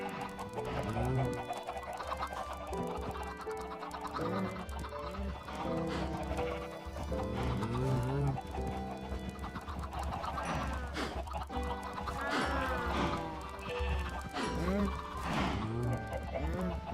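Minecraft chickens cluck repeatedly in short bursts, overlapping and layered over a steady low background hum, with a voice talking over them at times.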